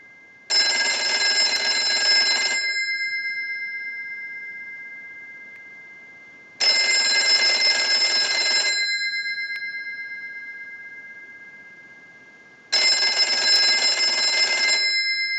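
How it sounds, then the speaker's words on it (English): An Automatic Electric rotary wall telephone's bell rings in three loud bursts of about two seconds each, with regular pauses of about four seconds in between. "use the analyzer and send a ring cycle like you were getting a call"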